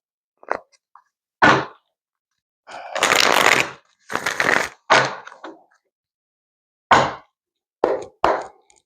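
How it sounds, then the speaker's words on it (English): Tarot cards are shuffled in several separate bursts: quick riffles, slaps and brushes of the deck, loud and close, separated by short silences. "Do one more shuffle."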